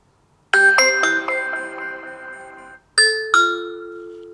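Ring Video Doorbell Gen 2 chime played from a phone app, a clear ding-dong melody of bell-like tones ringing out, pausing, then sounding again, loud and alone.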